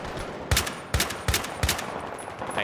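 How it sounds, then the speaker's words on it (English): Gunfire in the video game Battlefield 3: four sharp shots at a steady rhythm, followed by a softer scattered pop, over a background hiss. "Taking heavy fire."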